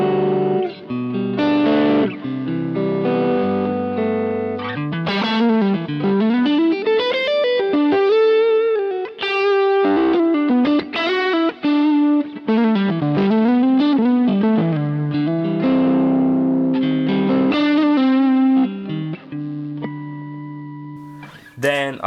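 A cranked Pro Reverb amp preset on a Kemper profiler plays distorted electric guitar with effects, running loud and continuous with chords and sliding lead lines throughout.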